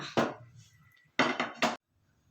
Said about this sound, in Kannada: ಸ್ಟವ್ ಹಚ್ಚಿ ಪಾತ್ರೆ ಇಟ್ಕೊಳ್ಳೋಣ